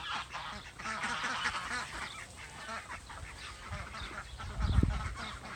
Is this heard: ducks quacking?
yes